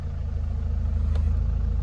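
An older Maruti Suzuki Ritz diesel idles just after starting, a steady low throbbing rumble with an even pulsing rhythm, close by and without speech.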